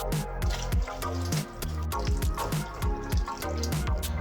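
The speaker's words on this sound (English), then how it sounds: "Now I'm going to use 4 cups of water equivalent to this. But make sure the water is hot." Hot water is poured into a pot of raw rice for Goan pulao, giving a close run of splashing, dripping and bubbling liquid sounds.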